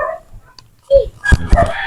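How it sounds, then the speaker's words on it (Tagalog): Dogs yip and bark close by on a path next to a cemetery, with short whimpering cries and a few sharp barks over about two seconds. "May aso dito, may aso doon."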